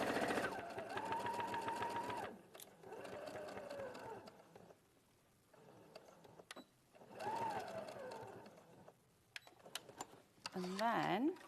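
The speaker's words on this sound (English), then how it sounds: "1/4 inch seam allowance, and we'll just start sewing from there" A sewing machine runs a quarter-inch seam in several whirring bursts separated by pauses, its motor rising and falling in pitch, while someone talks over and between the stitching.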